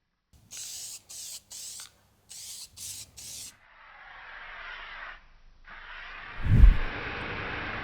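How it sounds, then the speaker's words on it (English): Several short bursts of aerosol primer spray hiss close by as a light dusting is applied to a bike part, followed by a longer continuous spray and a soft thump partway through. "I'm just going to do a very light dusting on there."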